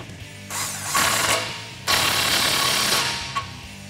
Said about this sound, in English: we'll take a 21 millimeter socket, snug this down